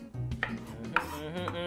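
Kitchen knife finely mincing red onion on a board for fresh guacamole and salsa, a close run of soft chopping taps with two sharper knocks, no voices.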